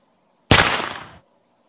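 One sharp gunshot sound effect from the Gun Movie Effects phone app: a sudden loud blast with a short, fading rattle, heard alone in silence.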